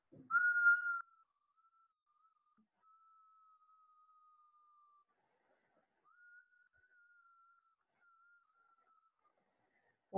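A faint, drawn-out whistle in a story sounds as a soft steady tone after a brief louder start, breaks off, then returns for a few more seconds against near silence.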